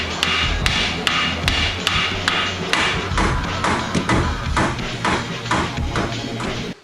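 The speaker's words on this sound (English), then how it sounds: "Strike the hub repeatedly with a hammer until it becomes disconnected from the suspension strut." A hammer strikes a car wheel hub over and over in a fast, steady rhythm, each blow ringing sharply and loudly up close, knocking the hub free of a VW Bora's suspension strut.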